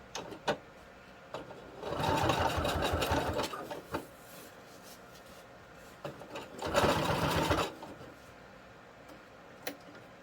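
A sewing machine top stitching a bag, running in two steady bursts of a few seconds each, separated by quiet pauses with light clicks and handling sounds.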